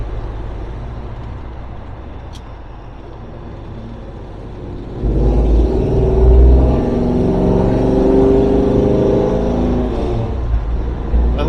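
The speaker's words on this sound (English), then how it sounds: "I love the sound of this car." A car engine drones through a turn, quiet at first, then swelling about halfway into a louder, rising growl as the throttle opens, heard up close from the cabin.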